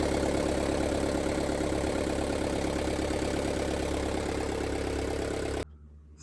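A boat engine runs after its three fuel filters, oil filter and oil were changed, holding a loud, steady idle for about five seconds before cutting off abruptly.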